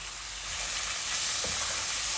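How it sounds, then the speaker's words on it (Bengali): Prawns frying with vegetables in a hot pan for a Bengali vegetable bhuna, a steady bright hissing sizzle that holds constant and close throughout with no talking. "এই চিংড়ি মাছগুলো আমি দিয়ে দিচ্ছি, একসাথে বুনা বুনা হবে।"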